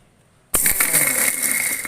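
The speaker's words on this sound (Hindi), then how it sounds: "और मिक्सी को चला दूँगी 1 से 2 बार" A mixer grinder blending coffee, sugar and a broken ice cube starts abruptly after a short silence, then runs as a loud, steady rattling whir until the end.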